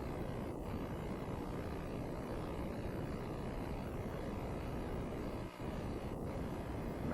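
A rocket engine in Kerbal Space Program roars as one steady, dense wash of noise while being throttled back during an ascent to orbit, loud and unbroken apart from a brief dip, with no voices.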